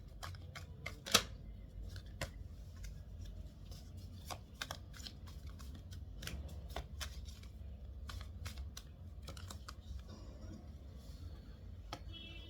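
Tarot cards being shuffled by hand close up: a dense run of crisp riffling clicks and snaps, with a few louder slaps at irregular intervals and a faint hum underneath, no talking.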